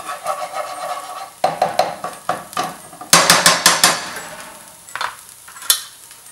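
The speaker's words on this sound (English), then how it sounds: "And then I'm going to throw in the beef in there." Ground beef hits a hot frying pan and is stirred, with a close sizzle broken by a run of sharp scraping and clanking strokes against the pan, loud and irregular, with no talking.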